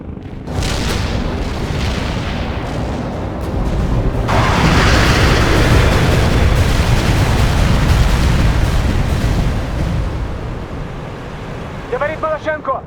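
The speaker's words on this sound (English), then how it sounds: "Launching a barrage." Artillery barrage in the World in Conflict strategy game, a long, heavy rumble of booming shell impacts that swells and rolls on for several seconds before fading, with brief voices over the tail end.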